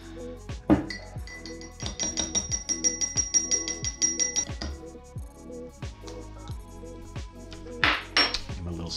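Metal spoon clinking rhythmically against a glass while stirring Rhode Island coffee syrup into milk; a steady run of bright, close taps with a few louder knocks, no voices.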